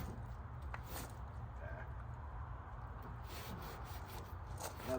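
Metal is scrubbed with Comet cleanser, producing a soft, continuous rubbing and scouring texture with occasional light knocks, fairly quiet and close over a low background rumble.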